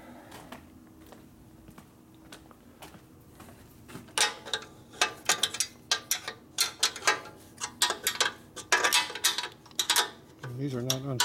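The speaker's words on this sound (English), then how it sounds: "These are not unscrewing easily" Screws being worked loose on a 1973 Harley Shovelhead motorcycle under binding load, a run of sharp metallic clicks and ratcheting ticks that grows busier and louder midway, with speech near the end.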